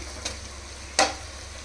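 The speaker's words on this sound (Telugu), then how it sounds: "ఇప్పుడైతే మనం మ్యారినేట్ చేసి పెట్టుకున్న ఈ చికెన్ ముక్కలు కూడా వేసేసుకుందాం." Marinated chicken pieces drop into hot oil in a pan, giving two short, sharp splats with a light sizzle under a steady low background.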